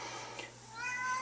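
Buster, a pet cat, lets out a drawn-out meow that rises toward the end, fairly close and alone over a quiet steady hum.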